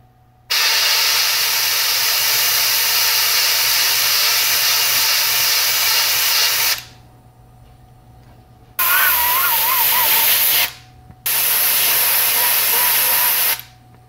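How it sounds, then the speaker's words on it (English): Airbrush spraying paint onto a 7-inch minnow fishing lure being painted in a red drum pattern: a loud, close, steady hiss in three bursts, one long and two shorter, separated by brief pauses. "So I'm going to do spray in the middle and then let the overspray kind of just go around the outside."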